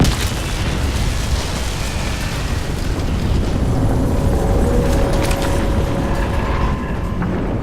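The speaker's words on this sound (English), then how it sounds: "Explosion imminent." A sustained, loud rumbling explosion in the video game Crysis 2, a dense low roar with crackling debris running steadily for several seconds.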